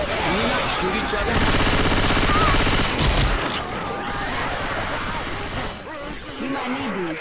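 Rapid automatic gunfire rattles in the zombie shooter game Left 4 Dead 2 on the Dark Carnival campaign, dense bursts dominating the middle while players talk over the opening and closing moments.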